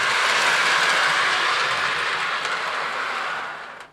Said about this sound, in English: So we got our train running,